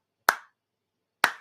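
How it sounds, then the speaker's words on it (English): Two slow, sharp hand claps about a second apart, close and dry with silence between them. "Duck lip, slow clap."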